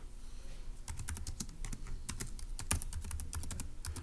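Fingers typing on a computer keyboard, an uneven run of quick, close clicks and taps that starts after a short pause and continues steadily, with no talk.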